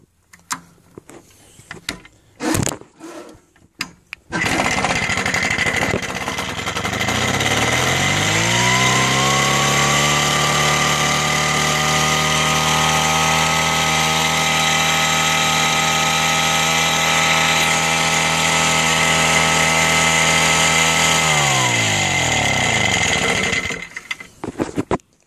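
An Auto Union GG400/24 two-stroke generator engine fires up after a few clatters and runs loud and steady at a high buzzing pitch for about twenty seconds before winding down, close and with no talking.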